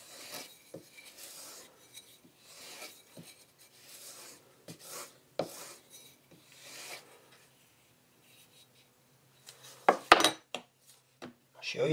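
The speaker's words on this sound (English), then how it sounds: "We'll see if they'll cut paper." A handmade knife forged from a wrench slicing through paper, giving short scraping and rasping cuts in bursts with quiet gaps, close and fairly faint, ending in a sharper flurry of strokes.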